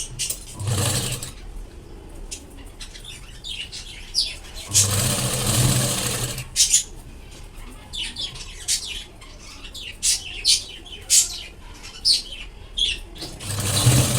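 A sewing machine runs a straight seam through lined katori blouse fabric in three short whirring bursts, while birds chirp and squawk in the background between runs.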